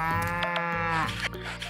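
Cows on the farm in the video game Story of Seasons: Pioneers of Olive Town moo in a long, loud, drawn-out call with a wavering pitch, heard alone and close by, with no talking over it.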